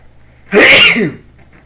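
A single sharp, loud sneeze close to the microphone, one quick burst that fades into a quiet room.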